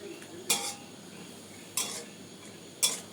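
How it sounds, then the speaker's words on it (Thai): A metal spatula scrapes and clanks three times in a stainless steel pan as vegetables are stir-fried with minced pork, the strokes spaced apart over a faint sizzle. "พอหมูสุกก็เอาผักลงเลยนะครับ ผักลง ผัดให้ผักมัน"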